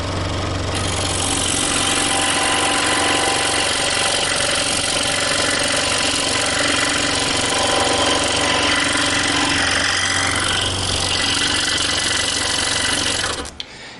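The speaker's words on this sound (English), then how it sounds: "this is a little bit thicker material, being 3/4 inches, but I will cut it out in real time" A scroll saw cuts through 3/4 inch thick material, giving a steady, loud mechanical hum and buzz of the reciprocating blade that runs without pause and stops abruptly at the end.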